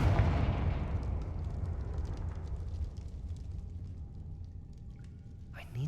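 A Confringo spell bursts in Hogwarts Legacy, opening with a loud deep blast that rumbles and crackles, then slowly fades into a low, dwindling tail with scattered faint crackles and a small burst near the end.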